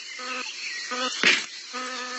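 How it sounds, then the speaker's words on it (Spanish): A wasp buzzes close by beside a newly emerged cicada, its droning hum coming in three short bursts with a brief rustling scrape in between, and no voices. "La avispa parece estar decidida a hacer notar su presencia."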